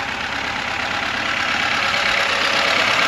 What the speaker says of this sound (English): This is the engine of a Lada.